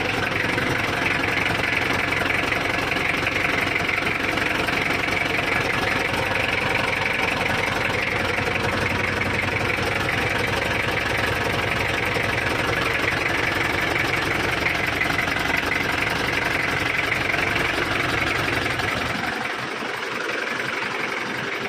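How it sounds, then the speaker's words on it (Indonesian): A cold car engine idles steadily after a clutch set replacement on a manual vehicle, a loud, continuous close-up rumble with a faint knocking texture throughout, dropping away abruptly near the end. "Nyala. Kita tunggu sebentar karena masih dingin mesinnya, baru kita tes."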